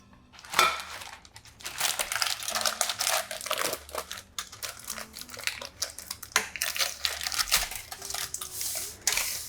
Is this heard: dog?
no